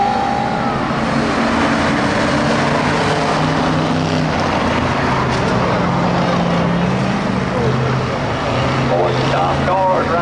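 Junior Crown Victoria race cars at Swainsboro Raceway starting a heat race on the green flag, with a dense wash of engines droning and shifting pitch, continuous and loud, while an announcer talks over it.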